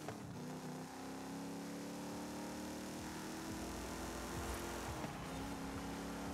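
Pontiac race car engine in Forza Horizon 5, a quiet sustained drone that rises and falls slightly with throttle through the lap, heard alone.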